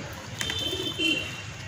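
Pigeons feeding on millet and milo give soft, low coos in a short burst, fairly close and calm, with faint outdoor background and no talking.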